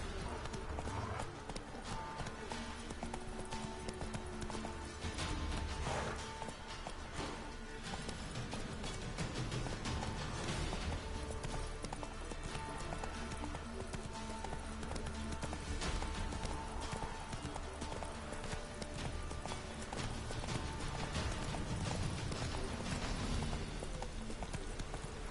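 Roach the horse's hooves clip-clop steadily in The Witcher, a continuous rhythmic trot under game music and ambient noise, with faint voices now and then.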